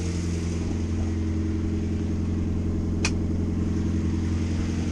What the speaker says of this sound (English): Obviously it's got a bit of choke on it at the minute.